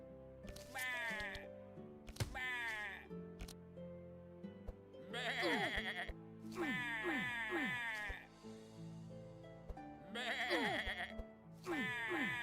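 Sheep in the video game Across The Obelisk bleat repeatedly, a string of wavering, quavering cries in bursts with short pauses, layered over a steady game music backdrop.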